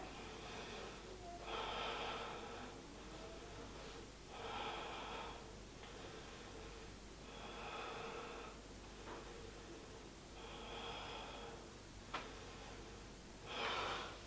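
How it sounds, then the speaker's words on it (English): Deep, slow yoga breathing during a seated twist, with several long, audible inhales and exhales in a steady rhythm, close and fairly soft in a quiet room. "Take 5 deep breaths here."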